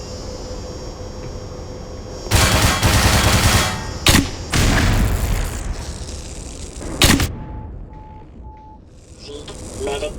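Grenades explode in the Black Mesa remake of Half-Life: two loud, booming blasts, the first long and rumbling, with sharp cracks between them, followed by a softer tail and a faint electronic tone.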